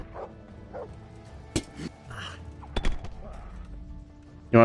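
A dog barking in the video game Kingdom Come: Deliverance, a handful of sharp barks and yips spaced through the scene with thuds of combat and a voice in between.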